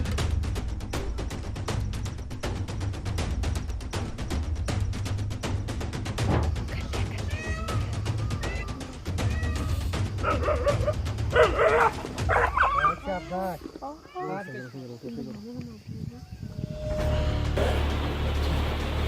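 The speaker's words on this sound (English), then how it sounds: "A leopard attacks a puppy, and the mother dog chases after it desperately to save her young" A dog yelps and whimpers in distress as a leopard attacks it, amid loud, chaotic noise and rumbling, with a cat-like yowl and high whining cries toward the end.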